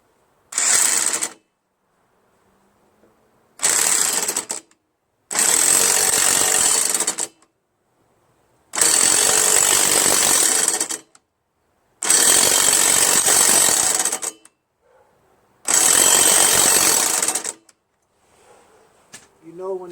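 A power tool drives a socket to tighten the blade bolt on a Craftsman Briggs Quantum self-propelled lawn mower, producing loud rattling impact bursts, six separate runs of one to two seconds each with quiet gaps between.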